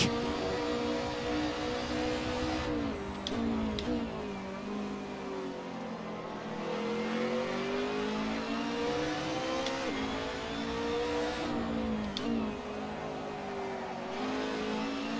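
A World Touring Car Cup race car in Assetto Corsa revs loudly and steadily at Portimao, its engine note rising and falling through shifts, with a downshift and other cars' engines blending in close.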